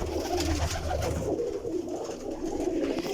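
Pigeons kept by a breeder cooing in a loft, a soft, continuous low warble of overlapping coos close by, with no talk over it.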